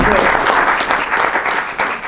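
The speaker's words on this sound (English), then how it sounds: "I need to give him a round of applause." A crowd at a Pachyderm Club meeting claps steadily in a round of applause, dense and continuous throughout.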